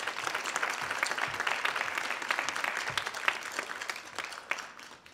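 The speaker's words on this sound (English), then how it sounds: "could you please have another round of applause?" An audience at a charity event applauds after an Indian classical music performance. The clapping is lively and fairly close, then thins and fades toward the end.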